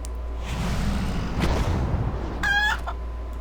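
Chickens in the World of Warcraft game cluck and squawk in quick bursts, with a higher-pitched rooster-like call near the end over a steady low game background.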